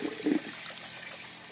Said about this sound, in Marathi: मोटर पण चालू झाली।